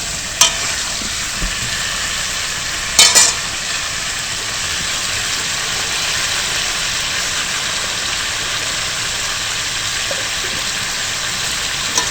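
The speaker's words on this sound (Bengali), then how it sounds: "আলুগুলোকে প্রথমে একটু লাল লাল করে ভেজে নেব।" Potatoes fry in hot oil with a constant, close hissing sizzle, broken by a few sharp clinks of stirring near the start and around the third second.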